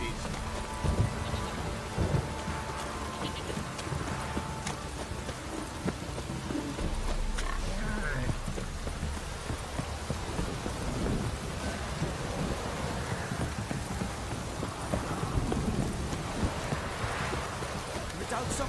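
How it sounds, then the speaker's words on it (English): Steady heavy rain pours in a game-world downpour, with low thunder rumbling throughout, continuous and close, and faint voices or other noises mixed into the storm. "If it don't stop raining, my arse will rot off."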